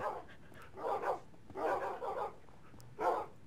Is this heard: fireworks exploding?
no